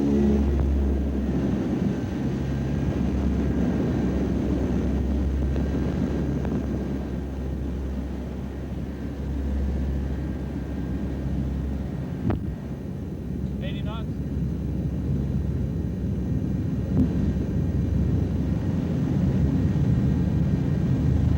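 Lockheed SR-71 Blackbird on its takeoff roll, a loud, steady low roar of jet engines with rumbling wind buffeting, heard from inside the aircraft throughout; brief radio-style speech from the crew sits under the noise.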